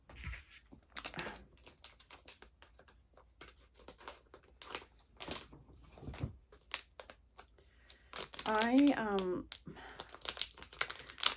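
Plastic packaging of a beauty subscription bag crinkles and tears close by in short bursts, with someone talking throughout and a brief sung or drawn-out vocal sound near the end.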